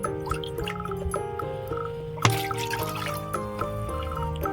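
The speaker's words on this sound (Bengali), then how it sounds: "দুবাটি জল দেব আমি" Water poured into a pot while making orange dudh puli pitha, a soft trickling and dribbling with light splashes and one sharper clink midway, fairly quiet and without talk.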